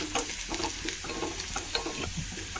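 Onion and crushed chili fry in a pan for a simple curry, a close, continuous sizzle with soft stirring scrapes and small pops throughout, no voices.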